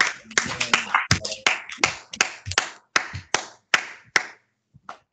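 A church congregation claps together in a steady rhythm during a Sunday worship service, about a dozen sharp, loud claps that stop abruptly, followed by a brief faint pair of taps.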